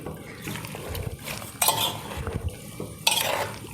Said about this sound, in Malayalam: അപ്പോൾ നമുക്ക് നന്നായിട്ടൊന്ന് മിക്സ് ചെയ്യാം ആദ്യം